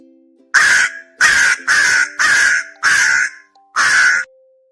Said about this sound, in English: Crow says, "Caw caw."